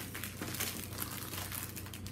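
Plastic wrapping of a 60 by 80 cm square-drill diamond painting kit crinkling steadily as it is opened up close, with a low steady hum underneath.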